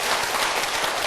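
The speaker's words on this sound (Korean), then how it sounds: "박수 한번 치면" Audience clapping at a ceremony for a man honored for 33 years of military service, a brief, dense, even burst of applause with no voices.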